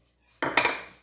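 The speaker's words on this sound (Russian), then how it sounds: "Туда вбиваем одно куриное яйцо." A chicken egg cracked against a bowl and dropped onto dry, crumbly cottage cheese, heard as a short, sharp close-up crack and a quick wet splat after a moment of quiet.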